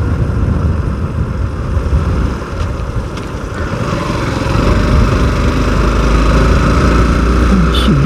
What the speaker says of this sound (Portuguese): Essa moto anda pra caramba, cara.